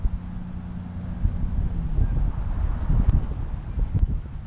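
Wind gusts buffet the microphone outdoors at a church, giving an uneven low rumble with occasional louder puffs and no talking.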